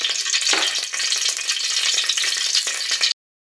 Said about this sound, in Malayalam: അപ്പോൾ അതിലേക്ക് നമുക്ക് എണ്ണ ഒഴിച്ച് കൊടുക്കാം.